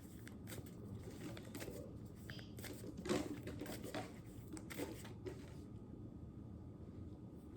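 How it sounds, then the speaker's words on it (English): A deck of tarot cards is shuffled up close in a quiet room, a continuous soft riffling and slapping of card stock with a few sharper flicks. "These cards, y'all, sometimes they take forever to shuffle"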